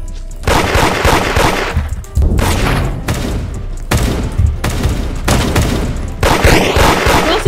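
Bursts of rapid gunfire from the Roblox game Da Hood fill the scene, loud repeated volleys of shots in several dense clusters separated by brief pauses.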